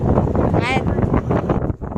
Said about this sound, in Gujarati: તો ગાઈસ તો અહીંયા બહુ પવન હાલે છે.